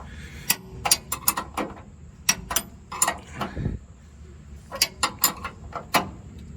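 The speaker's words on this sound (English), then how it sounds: "I just took a 3/4 wrench and you know, made them as snug as I could by hand" A 3/4 wrench ratchets bolts snug on the tow package of a 2001 Chevy Silverado 2500HD, producing bursts of sharp metallic clicking in quick runs separated by short pauses, close up with no talking.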